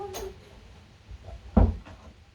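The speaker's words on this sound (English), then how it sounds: "closing the door because my husband's watching YouTube videos" An indoor door swings shut with a soft thud and a brief rattle, preceded by a few faint handling clicks in a quiet room.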